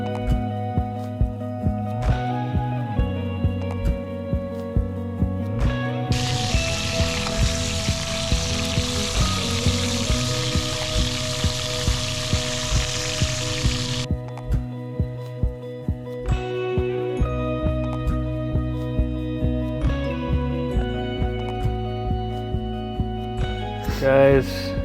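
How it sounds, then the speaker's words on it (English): Steaks fry on a camping grill with a steady crackling sizzle, partly masked by loud background music that runs throughout. "All right, let's watch this sizzle. Let's see if it actually sizzles."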